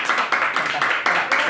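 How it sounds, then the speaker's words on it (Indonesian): A short burst of clapping with several claps in quick succession, fairly close and steady, with no one talking over it. "Ya, tepuk tangan. Ya, applause please."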